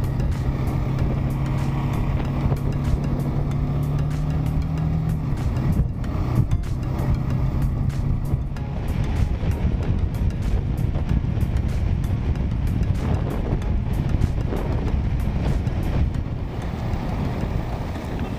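Steady road roar and heavy wind buffeting from a motorcycle ride on the road from Vasai to Panvel, loud and continuous with a faint engine hum underneath.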